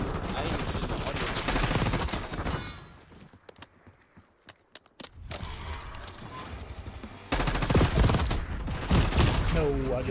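Gunfire in Black Ops 6, with rapid automatic bursts that are loud and dense, a brief quieter gap with scattered single shots, then heavy firing resuming.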